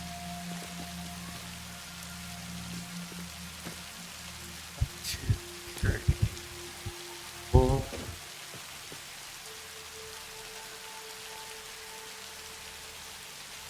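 Rain falling in a video game, a steady soft hiss running through the whole stretch, with a few brief knocks and clicks from the room breaking over it.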